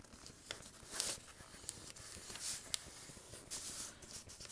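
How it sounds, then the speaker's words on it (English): Paper being folded and creased by hand while shaping a paper airplane built for windy conditions, with soft crinkles and a couple of sharper tearing-like crackles spread over a few quiet seconds, close and fairly faint. "Fold that triangle down."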